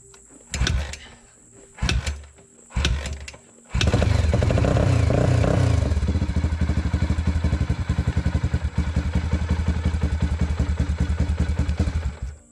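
A Suzuki DR350 motorcycle is kicked over three times, each attempt a short mechanical clatter. It then catches and runs loudly with a fast, rough, rhythmic thump that stays close and fills the rest of the recording, with no voices.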